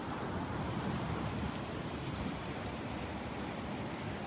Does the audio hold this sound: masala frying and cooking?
no